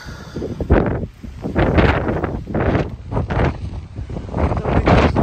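Strong, cold wind on the Pacific Crest Trail buffets the microphone in loud, irregular gusts, roaring and rustling in waves.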